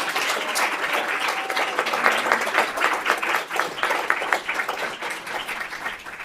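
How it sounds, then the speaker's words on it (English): At a school board of education meeting, an audience gives community builders a round of applause. The clapping is sustained and medium loud, swells in the middle and tapers slightly toward the end, and a few voices are mixed in. "Can we get one more round of applause for our community builders this evening?"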